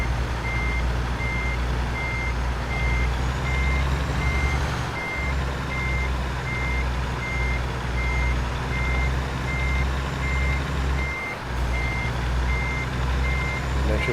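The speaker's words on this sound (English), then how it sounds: "I've got to very carefully back this trailer up right in between all these containers." Steady, evenly spaced reversing beeps from a truck backing a trailer between shipping containers in American Truck Simulator, sounding clearly over a constant low diesel engine rumble, no talking.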